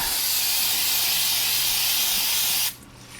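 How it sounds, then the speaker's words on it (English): Spray rinse blasts spilled grime off the brake parts of a 2007 EZGO TXT gas golf cart, a loud, close, steady hiss lasting almost three seconds before cutting off abruptly. "One quick rinse just to get that crap off there that's spilled."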